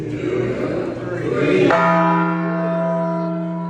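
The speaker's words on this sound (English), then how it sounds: "Just a bang of the bell, and that was to commemorate the end of your studies." A single bell struck once at a university ceremony marking the end of studies, ringing out loud and clear with a long, humming sustained tone after some background crowd noise.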